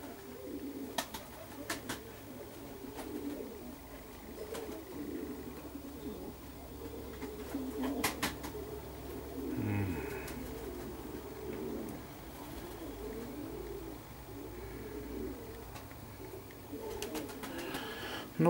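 Perm pigeons cooing and calling steadily outdoors, with soft wing flutters and bird calls scattered through a low ambient hum, moderately near and fairly quiet, no talking.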